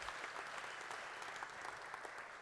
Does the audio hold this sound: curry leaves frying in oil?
no